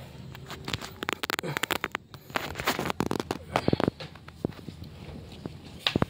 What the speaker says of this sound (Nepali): यो सुँगुरको मासुलाई आगोमा राम्ररी पोलेर हैन